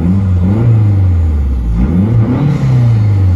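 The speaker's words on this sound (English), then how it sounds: "I'm gonna do a rev test for you real quick." A 2009 Mazdaspeed3 turbocharged engine revs up and down in a quick rev test, the deep engine note rising and falling in several swells, close and loud with no talk.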